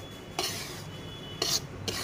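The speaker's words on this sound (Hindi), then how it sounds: "तो अभी सूजी को गोल्डन ब्राउन होने तक भूनते हैं।" Semolina roasting in a pan for suji barfi, a quiet scraping and rasping of a spoon against the grains with a few brief louder strokes over a low steady background.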